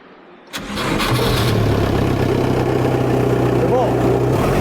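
An old diesel car engine, preheated with glow plugs, cranks and catches abruptly, then settles into a loud, steady idle that runs to the end, with a voice speaking briefly over it.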